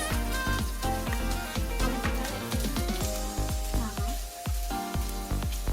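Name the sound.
carrots sizzling as they are added to frying rice dish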